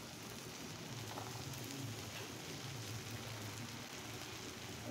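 Chopped onions hit a pan alongside fried fish, giving a faint, even sizzle of steady crackling hiss that runs unbroken throughout with no talking.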